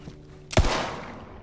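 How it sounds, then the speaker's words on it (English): A single loud gunshot from a weapon in Borderlands 3, a sharp near blast followed by a decaying rumbling tail, alone without talk. "Oh, you made me shoot again."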